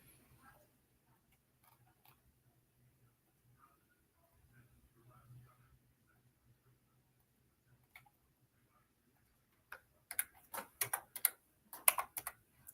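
Bursts of typing on a computer keyboard, mostly over the last three seconds, a rapid near clatter of keys after a long quiet stretch with only faint low hum and scattered small noises in an office.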